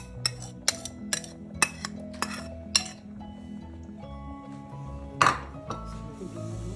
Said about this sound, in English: I'm just stirring it through